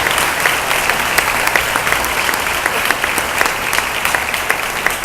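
Church congregation applauding at a parish's third anniversary service, loud, dense, continuous clapping from many hands with sharp individual claps standing out throughout.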